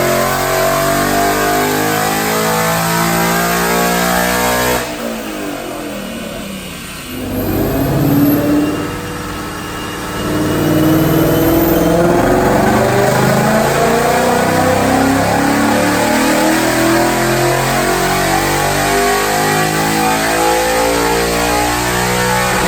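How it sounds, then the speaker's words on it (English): 2017 Mustang GT V8 with long-tube stainless headers and an upgraded manifold revving hard on a dyno, a loud sustained wide-open pull that dips briefly, then climbs and holds at high rpm for a long stretch. "let's make a couple back-to-back dyno pulls"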